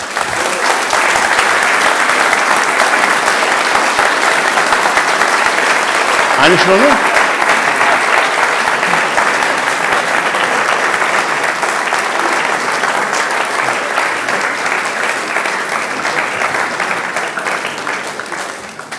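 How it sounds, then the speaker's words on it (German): Loud, dense audience applause at a German event fills the room steadily for nearly twenty seconds, tapering slightly at the end, with a brief spoken phrase cutting through partway. "Mehr Applaus haben Sie noch nie gehört."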